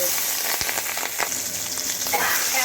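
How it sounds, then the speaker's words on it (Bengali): Small gulsha tengra fish sizzle loudly as they fry in hot oil in a wok over lowered heat, a steady close crackle broken by a couple of sharp utensil clacks, without speech. "একে একে মাছগুলো দিয়ে একটু উল্টে পাল্টে ভেজে নেব"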